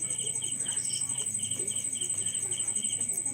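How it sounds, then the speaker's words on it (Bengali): Dense, continuous cricket chirping rises from a field at the edge of a veranda, a steady high pulsing trill with no pauses, fairly close and even in level. "তাই হচ্ছে মাঠে ঝিঁঝি পোকার ডাক।"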